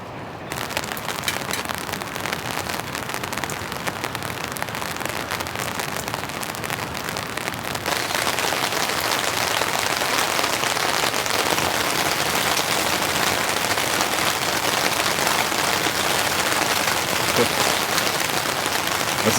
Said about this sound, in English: I'm pretty sure there's going to be like persistent rain pretty much most of today.